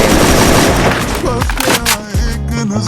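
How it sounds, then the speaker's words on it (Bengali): Dense, loud bursts of AK rifle fire in the shooter game Free Fire, rapid overlapping shots with sharp booming reports that roll on and off across the clip. "একে দিয়ে এতগুলো ফায়ার করলাম"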